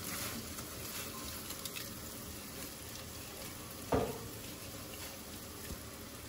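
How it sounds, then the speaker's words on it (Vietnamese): A pot of water at a rolling boil on a kitchen stove, a faint steady bubbling hiss with one brief louder splash partway through. "Bên đây thì nồi nước cũng đã sôi rồi nè."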